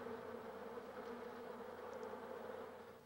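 Honeybees buzz in a dense, steady drone, a close swarm humming continuously without pause.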